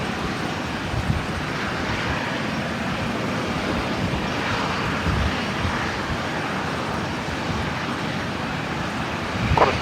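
A Rex aircraft departing Brisbane Airport gives off a steady, broadband roar that holds for the whole stretch with a wind-like rush, moderately loud and unbroken, with no voices.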